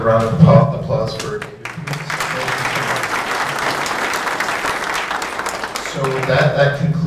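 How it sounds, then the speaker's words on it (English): Applause from an audience at the close of a blockchain bootcamp presentation session, rising after a speaker's voice and filling the middle stretch before talking returns at the end. "Another round of applause for"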